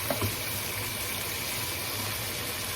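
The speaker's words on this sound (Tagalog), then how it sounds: "Tapos talagyan na po natin siya ng sabaw para maluto." Broth pours steadily into a pot of sinigang sa miso with bangus, a continuous close watery rush with no talking.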